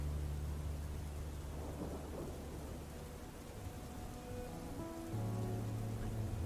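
Steady rain with deep rolling thunder in a VR roleplay game, a continuous loud wash of downpour that fills the clip with no voices.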